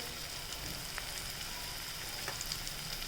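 Onions and tomatoes fry in a pan with salt and turmeric added, giving a steady, moderately loud sizzling hiss with a few faint clicks.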